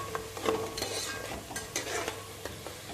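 Onions fry in a pan for chicken karahi, a soft sizzle broken by repeated scraping strokes of a spoon stirring at an uneven rhythm, close and moderately quiet.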